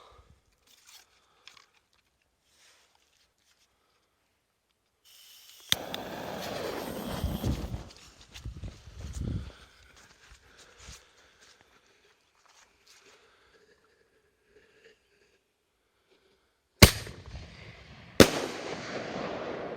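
A sharp fireworks mortar launch thump followed by a crackling burst, then after a long quiet stretch two loud booming shell reports in quick succession, outdoors at a distance.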